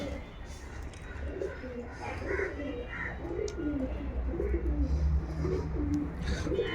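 Pigeons inside a dirty pigeon house being cleaned coo in soft, repeated throaty bursts, moderately close, against a rustling, busy background with some talking mixed in.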